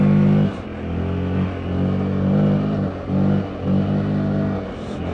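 Loncin XWolf motorcycle pulling away and accelerating on a test ride, a close, loud engine drone that rises and dips in pitch with a few rhythmic surges as the throttle is worked.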